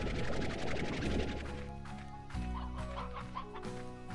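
Cartoonish hens cluck and squawk repeatedly in a video game, loud and close over a dense, continuous bed of game music and effects.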